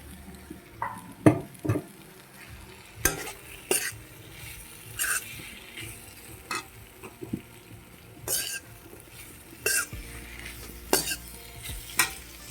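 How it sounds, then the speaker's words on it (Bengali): Fried onions and potatoes being stirred into a sizzling spice masala for an egg curry, with loud spoon-against-pan scrapes and clatters at irregular intervals over a steady low frying hiss. "তো এখন এই যে ভেজে রাখা পেঁয়াজ আর আলুগুলো আমি দিয়ে দিচ্ছি।"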